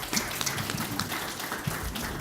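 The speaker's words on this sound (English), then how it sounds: "Let's have some applause for all our candidates" Audience clapping for candidates at an evening sustainability dialog event, a brief steady patter of applause in a hall, moderately loud and continuous with no voices over it.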